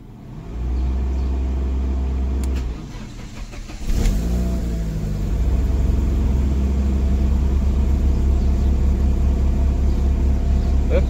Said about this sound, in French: tu vas venir démarrer ta voiture